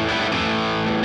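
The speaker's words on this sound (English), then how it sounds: "I want to switch to a distorted tone, I hit the channel selector on my amp, or I switch on my distortion pedal" A distorted electric guitar tone through a distortion pedal rings as a thick, sustained chord, loud and saturated with no talking over it.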